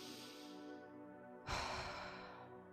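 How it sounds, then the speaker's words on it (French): A single slow, close breath during a guided meditation: a long soft inhale followed by a sudden heavier exhale, with no voices. "Reprenez une profonde respiration pour vous redynamiser."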